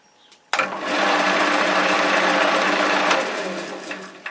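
Wood lathe spinning up a three-cornered bowl blank between a step center and a running center, a sudden start into a steady loud whirring hum that runs for several seconds, then eases.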